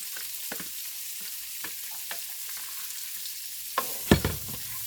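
Mixed vegetables stirred in melted butter in a pan that held fried potatoes, with a steady soft sizzle and scattered scraping clicks, ending in a few louder knocks near the end.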